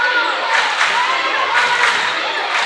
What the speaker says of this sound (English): And you can hear this gym come alive. This Manila crowd.